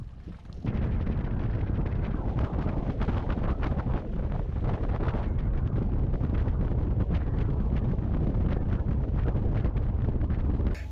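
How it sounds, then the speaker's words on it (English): Strong wind buffets the microphone out on Lake Taneycomo, a loud, steady, rumbling roar that holds almost unbroken for the whole stretch, with no voices. "The weather's kind of windy"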